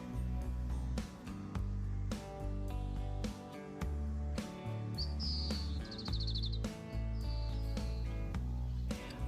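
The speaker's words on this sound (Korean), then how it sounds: "방울새의 울음소리입니다." Bright, trilling Oriental greenfinch calls, including a high rolling twitter, sound over a steady layered musical backing that pulses in regular beats.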